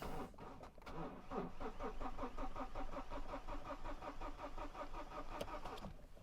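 A BMW E60 with an N47 diesel engine cranks over steadily without firing, its starter churning in an even rapid rhythm for several seconds with no timing chain fitted; close and fairly loud, with no talking.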